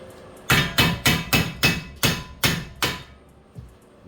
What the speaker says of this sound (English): All right, hammer time.